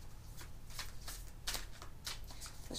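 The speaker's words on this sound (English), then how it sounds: "Let's shuffle these up." A Dark Mansion tarot deck being shuffled by hand, crisp riffling bursts of card noise repeating in quick uneven pulses, close and fairly quiet, with no speech.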